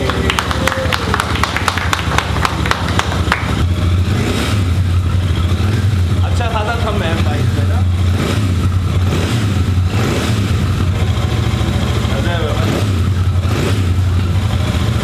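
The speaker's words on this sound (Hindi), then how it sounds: "अब इसका पहला सेल्फ एग्जॉस्ट साउंड सुनते हैं यार" Royal Enfield Super Meteor 650 motorcycle, newly launched in Delhi, starts and settles into a steady, loud exhaust rumble with a low throbbing idle, while people talk excitedly over it throughout.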